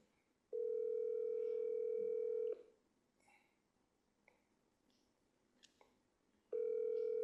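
A steady telephone tone sounds for about two seconds, drops away into quiet with faint clicks, then returns for a second stretch near the end, close and clear with no talk over it.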